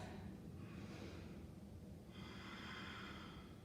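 Slow deep breaths taken while holding a hatha yoga pose, two long airy inhale-exhale swells close to the mic against a steady low background hum, with no talking.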